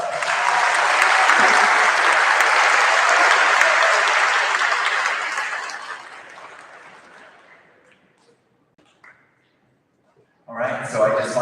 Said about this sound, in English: So one more round of applause for that.